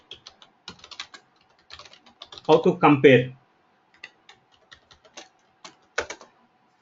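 Typing on a computer keyboard during an online data science class, a steady run of light, near key clicks with brief pauses, while a voice briefly speaks over it.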